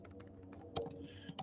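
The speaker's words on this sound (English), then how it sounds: "Hold on, I'm typing this in." Quiet computer keyboard typing, a quick run of soft irregular key clicks with brief pauses, close to the microphone and with no voices over it.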